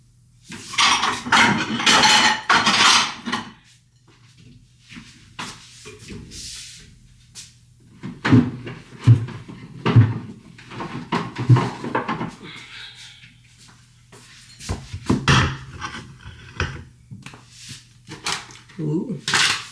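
Dishes, cutlery and cupboard doors clatter in bursts in a flat kitchen while a plate of rice is served, knocks and clinks coming close and loud between stretches of talking.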